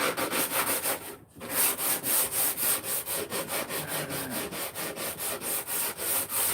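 Wood being sanded by hand with 80-grit paper to round off corners, a steady, close rhythmic rasping of back-and-forth strokes with one brief pause near the start.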